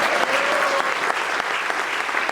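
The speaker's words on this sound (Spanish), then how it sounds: "Le damos un aplauso al Señor." A church congregation claps for the Lord during a sermon, giving a brief, dense burst of applause that stays loud and even throughout.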